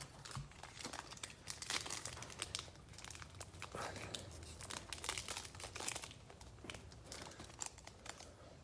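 Plastic wrapper of a 2021 Panini Revolution hobby trading card pack being cut and crinkled open, a steady run of close crackling, tearing and snipping sounds with no talking.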